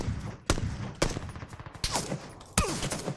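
Gunfire in an online shooter match, sharp shots cracking out at irregular intervals, some loud and close, others more distant, with no talk over them.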